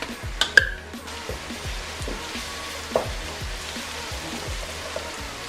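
Ginger garlic paste frying with browned onions in a pan for a roast chicken dish, a steady soft sizzle with a few sharp spatter pops near the start and rhythmic low scraping strokes throughout.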